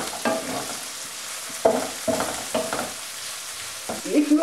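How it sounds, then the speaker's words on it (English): Potatoes and onions frying in a pan with cumin seeds, stirred now and then, giving a steady sizzle broken by several scraping stirs that come and go close by, with no talk over it. "and fry them for a couple of minutes"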